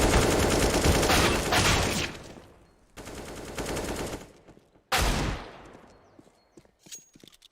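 Rapid gunfire bursts in a professional Counter-Strike match on the Inferno map, including a Desert Eagle kill: three dense, loud volleys with pauses between, the last cutting off sharply and leaving scattered faint clicks.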